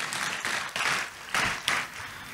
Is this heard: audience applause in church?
yes